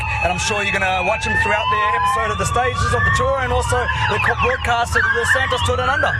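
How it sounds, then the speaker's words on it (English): Police sirens wail with rising and falling tones during the Santos Tour Down Under cycling parade, sounding steadily under continuous commentary from someone speaking over a busy outdoor crowd. "as we see the parade coming through, and you can hear the police sirens"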